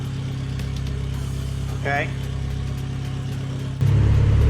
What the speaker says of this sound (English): give the engine a good hard rev, watch the piston, keep your face away from the trumpet